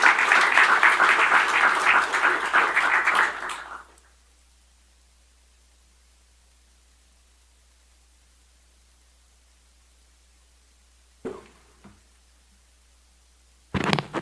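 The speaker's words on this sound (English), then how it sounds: "A round of applause." Audience applause at a formal national e-commerce strategy event in Trinidad and Tobago, a dense burst of clapping lasting about four seconds before fading into near silence, with a couple of faint thumps afterward.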